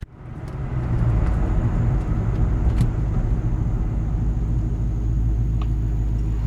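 A 1999-2004 New Edge Ford Mustang GT V8 idles while warming up, starting with a quick rise into a loud, steady, deep rumble that holds evenly throughout.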